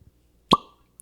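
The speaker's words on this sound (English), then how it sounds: "I'm gonna do a cork pop" A single sharp cork pop from a bottle of McConnell's Irish whiskey, 5 year, snapping loud and close with a brief hollow ring before the clip falls quiet.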